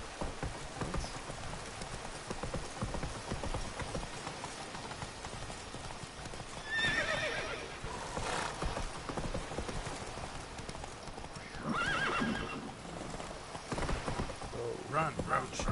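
Roach, the horse in The Witcher 3, galloping with a continuous rhythmic drum of hooves under ambient game sound, with occasional brief swells of other noise and faint voices.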